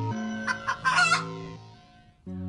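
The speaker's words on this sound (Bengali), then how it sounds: "মুরগির ঘুম ভেঙে গেলে তাদের মধ্যে লড়াই আর চিৎকার চেঁচামেচি শুরু হলো।" Cartoon chickens squawk and crow in a brief agitated burst of loud, raspy calls, then one final squawk after a short pause.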